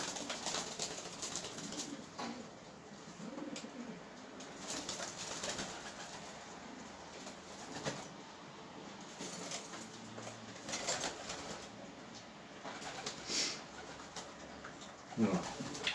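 Pet pigeons coo softly near a window as they are fed, with scattered calls and a brief flutter of wings under quiet speech nearby.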